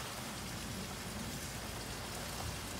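A heavy shower of sleet and snow falls outdoors in winter, a dense continuous hiss of pellets striking surfaces, loud and steady with no talking.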